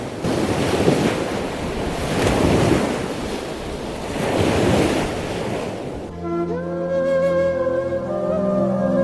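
Ocean surf rolling in on a beach in steady, loud washes with wind noise on the microphone, ending in a tonal music-like passage over the last few seconds.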